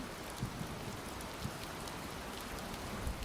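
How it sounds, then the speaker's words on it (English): Steady, quiet rain patters on a surface with scattered soft drops, a continuous gentle hiss with no talking. "It's rain time."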